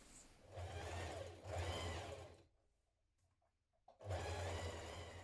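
A home sewing machine stitches the hem of a fleece hoodie, running in two steady bursts, stopping briefly for a near-silent pause, then starting up again, close and loud.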